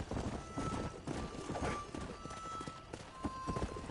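Hooves clop rapidly as a horse moves about in Red Dead Redemption on PS5, with whinnies and neighs rising over the galloping rhythm and busy game background.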